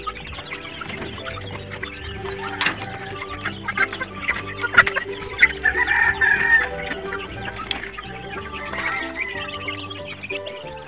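Backyard flock of young White Leghorn, Rhode Island Red and Shamo-cross chickens clucking and chattering continuously, a busy layered mix of calls at moderate distance with no talk.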